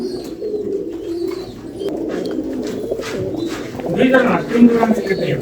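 A pair of Pakistani high flyer pigeons coo softly and repeatedly at a pigeon farm, with bird calls and low background voices mixed in, growing a little louder toward the end.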